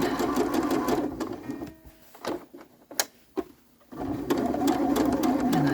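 A sewing machine stitches a quilt seam in fast, steady bursts, pausing briefly in the middle with a few clicks before running again at full speed, loud and close.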